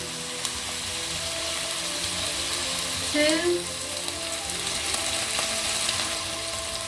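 Prawns sizzle steadily in a very hot wok as dark soy sauce goes in for a stir-fry, a constant hiss and crackle with a brief louder surge partway through.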